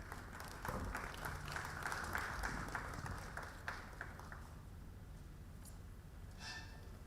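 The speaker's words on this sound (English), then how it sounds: "Please, you can clap for him." Applause from a crowd at a seminarians' association convention in Nigeria, steady clapping sustained for several seconds before fading to a quieter murmur.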